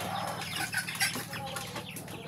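Chickens at a farm being fed in the afternoon: close, busy clucking and squawks with some wing flapping over steady background noise.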